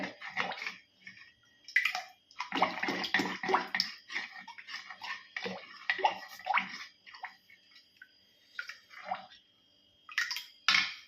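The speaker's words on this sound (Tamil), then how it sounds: "ஸோ மோர் விட்டு நல்லா கலக்கிட்டு" Fermented buttermilk poured into pearl millet porridge and stirred, wet sloshing and splashing bursts in irregular clusters, close and alone without talk.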